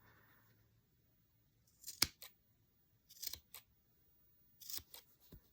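Scissors snip through the flannel fringe of a rag quilt in a few quiet, separate cuts with silence between them, each a short crisp crunch of blades closing on fabric.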